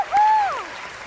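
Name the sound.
audience applause for contestants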